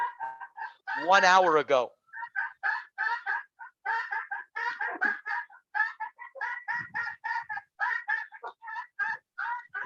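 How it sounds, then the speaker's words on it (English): Roosters crow loudly near the start, one long drawn-out call, with clucking fowl around while someone talks steadily over the rest. "It sounds like the roosters want to talk as well."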